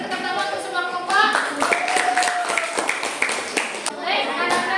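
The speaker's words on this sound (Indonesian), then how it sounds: "kita beri tepuk tangan untuk semua kelompok." Students clap together in a classroom during a religious education lesson, a fairly close, uneven patter mixed with children's voices and chatter throughout.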